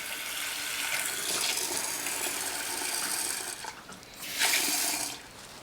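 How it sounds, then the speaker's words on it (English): Cold water running from a tap into a bowl of red beans being soaked, a steady close hiss and splash that briefly dips before swelling again near the end. "We're going to put water again."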